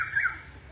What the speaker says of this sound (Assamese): এইফালে চৰাই মাত শুনিছে